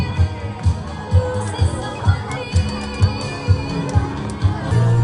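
A crowd at a magic and face-changing show claps and cheers, with a regular pulse of loud claps and whoops over a background of babble and a host's voice speaking over it.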